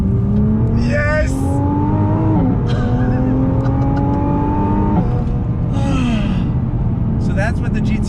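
A 2020 Nissan GT-R 50th Anniversary Edition, nearly 4,000 pounds, is driven hard with repeated braking; its engine drones loudly and steadily, dipping and climbing in pitch through shifts, with brief gasps and exclamations breaking in.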